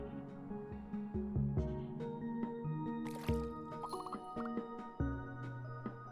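Soft squishing and dripping liquid sounds play as water is placed onto mud in the My Tiny Landscape building game, layered over gentle tonal background music.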